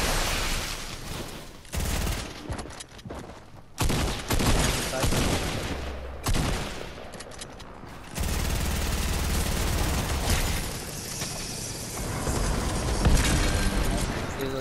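Gunfire in the video game Fortnite: loud, harsh bursts of shots and blasts that start and stop abruptly, separated by brief quieter gaps, with players' voices heard at times.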